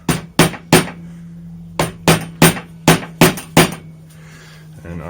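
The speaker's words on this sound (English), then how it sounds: "we can just use our little hammer and hammer them down." Sharp metallic taps of a small hammer flattening wire tag ends, two quick strikes, a pause, then a run of six steady blows, each ringing briefly; a low hum underneath.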